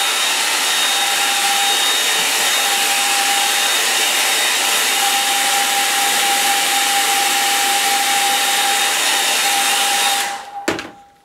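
A hair dryer runs loud and close for about ten seconds over a line-and-wash watercolour painting of trees and sky, a steady blowing whine that cuts off abruptly near the end.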